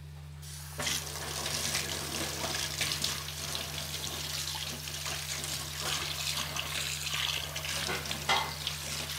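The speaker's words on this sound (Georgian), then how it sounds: "ეხლა მწვანეები გავრეცხოთ." Greens rinsed under a running kitchen tap, a continuous splashing water rush with rustling and handling noises over a low steady hum, starting abruptly after a brief quiet moment.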